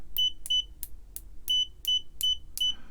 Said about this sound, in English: I'm actually using my 121 GW, which turns out in continuity mode really is the fastest meter I've got.